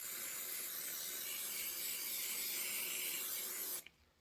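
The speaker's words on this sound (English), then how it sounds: "Give it a shot of spray." A steady, loud spray hisses continuously for several seconds, then cuts off abruptly, leaving near silence.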